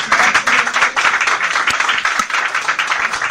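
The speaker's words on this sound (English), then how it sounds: "yes, we can do some applause." Audience applause at a radio station opening event: a dense, steady crackle of many hands clapping close and loud for the full three seconds, with no voices over it.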